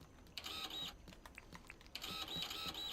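A household printer in a game streamer's room runs in two bursts of mechanical whirring and carriage movement with a quieter stretch of clicks between, fairly faint and close, with no talking.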